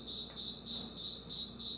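A cricket chirps steadily in loud, regular bursts about four times a second, close and clear with a faint background hum.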